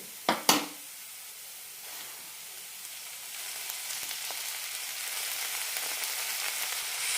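Sliced mushrooms drop into a pan of translucent fried onions, with a couple of sharp knocks at the start and then a steady sizzle that slowly builds and holds close.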